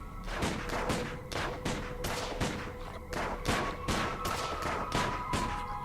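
Gunfire in the Sam & Max video game sounds as a rapid, sustained volley of sharp, punchy shots with a steady rhythm of bursts, fairly loud and close, over a faint musical tone.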